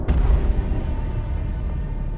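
An explosion in the video game Solo Leveling Arise hits with a loud, close deep boom, then rumbles on steadily for about two seconds.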